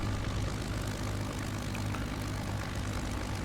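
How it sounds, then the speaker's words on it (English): A steady, droning radial propeller engine of a MiG-3 aircraft in Microsoft Flight Simulator hums at a constant low pitch, loud and even, with no voices. "Now this is a radial engine"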